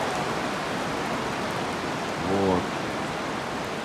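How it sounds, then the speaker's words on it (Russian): Steady rain falls on pavement along a seaside promenade, a continuous broadband hiss at even level throughout, with a brief spoken word and a short voiced sound in the middle. "Дождик смывает всю грязь и несет чистоту."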